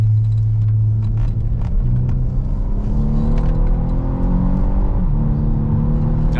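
A Renault Megane 4 GT engine accelerates from inside the car, a loud, steady rumble with rising whining engine tones climbing through the revs, no talk over it.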